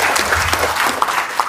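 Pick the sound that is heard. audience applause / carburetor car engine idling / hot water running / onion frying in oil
audience applause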